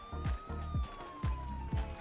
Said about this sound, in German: Man hat wirklich Sirene hier.